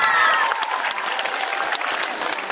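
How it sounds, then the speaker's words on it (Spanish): Audience at a school peace-day ceremony applauding for an honoured guest, a dense, steady round of clapping close and loud for a few seconds. "Un aplauso para ella."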